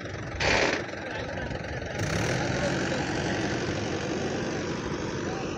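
A Mahindra 585 tractor engine runs steadily in first gear with five people standing on it, a low continuous rumble that swells after a brief burst near the start and holds a constant drone.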